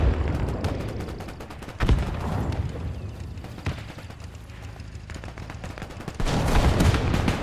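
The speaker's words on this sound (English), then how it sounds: "Go and man that mounted machine gun." Mounted machine gun fire in Men of War 2, a steady stream of rapid shots mixed with battlefield explosions and rumble, with heavier bursts near the start and end.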